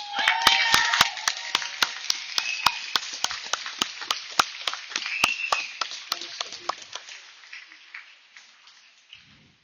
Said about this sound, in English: Give Al a big round of applause